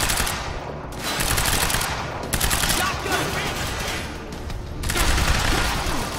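Rapid bursts of shotgun fire in the video game Quantum Break, loud and dense, coming in clustered volleys with brief gaps between them.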